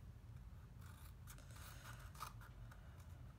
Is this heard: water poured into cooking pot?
no